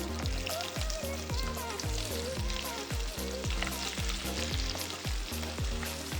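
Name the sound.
garlic and sliced carrots sizzling in spiced oil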